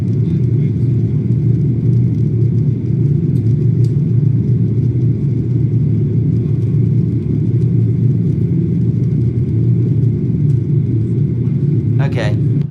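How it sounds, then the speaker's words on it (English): The inside of an airplane cabin during landing fills with a loud, constant low rumble and whir of engines and airflow. It holds steady throughout. "now I hear inside the plane."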